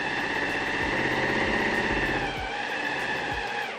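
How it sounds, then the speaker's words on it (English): A serger sewing machine trims and rolls a fabric edge in a continuous fast mechanical whir with rhythmic stitching chatter, close and steady, with no talking. "When the serger is nicely trimming the edge and tucking it under"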